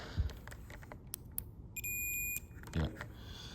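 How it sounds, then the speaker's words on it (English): A multimeter set to continuity mode while checking solder joints on a proto board gives one steady electronic beep of about half a second, close and clear, with faint clicks of the probes. "So I'm gonna get the multimeter and put it on continuity."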